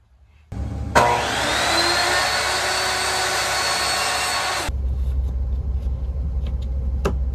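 A small jigsaw cuts wood trim for finishing pieces inside a 1990s Dodge camper van, a steady buzzing whine for several seconds over a low background hum, then it stops abruptly and the hum carries on.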